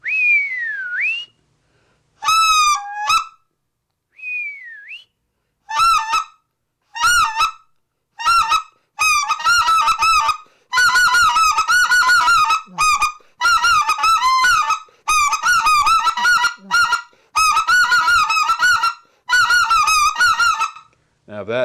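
Specklebelly goose call blown on a handheld air call: a long rising whistle, then rapid repeated yodeling clucks and honks in quick rhythmic bursts, loud and close, with no one talking.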